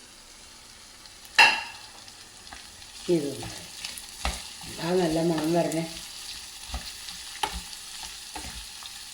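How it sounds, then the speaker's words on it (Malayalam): Carrots sautéed in sesame oil for a wedding-style pickle, with scattered stirring and scraping in the pan around a soft sizzle, then a brief spoken remark. "ആ ക്യാരറ്റ് ഒന്ന് വഴറ്റിയെടുക്കുക."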